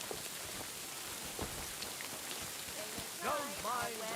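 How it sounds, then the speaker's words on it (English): Rain patters steadily across the ground in Kingdom Come Deliverance II, a soft continuous hiss with occasional drips, with a brief burst of muffled voices near the end. "Don't mind the rain."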